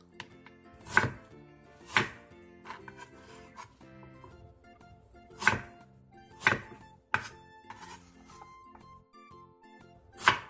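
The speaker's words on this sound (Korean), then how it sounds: "칼을 이용해 껍질을 깎아낸 뒤 무의 크기에 따라 4등분에서 9등분으로 잘라주세요" A knife chops through peeled Korean radish on a cutting board, cutting it into four to nine pieces: several sharp, distinct chops spaced irregularly with quiet gaps between them, close and alone with no talk.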